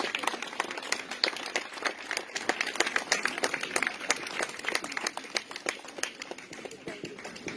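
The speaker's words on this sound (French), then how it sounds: "vous pouvez les applaudir fort" Loud, sustained applause from an audience, dense rapid clapping filling the whole stretch with no pauses.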